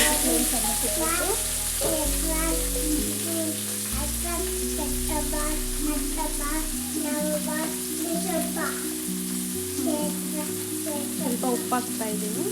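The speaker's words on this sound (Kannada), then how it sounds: "ನೆಕ್ಸ್ಟ್ ಟೊಮೆಟೊ ಹಾಕ್ತಾ ಇದ್ದೀನಿ. ಎಲ್ಲ ಚೆನ್ನಾಗಿ ಫ್ರೈ ಮಾಡ್ಕೊತೀನಿ" Tomato and leafy greens fry in a pan for a greens palya, a steady close sizzle running throughout beneath sustained tonal background sounds and some faint chirps.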